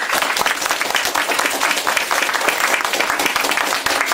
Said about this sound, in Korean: 우리를 위해 봉사하는 많은 형제 자매들에게 큰 박수 한번 보여줍시다